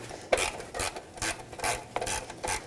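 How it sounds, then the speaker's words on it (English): A ratcheting wrench turns a 10mm screw near a car's turn signal assembly, giving a quick run of rhythmic clicking, scraping strokes, about five or six close, fairly loud bursts in steady succession with no talking. "If you have a ratcheting wrench, you can easily get it this way."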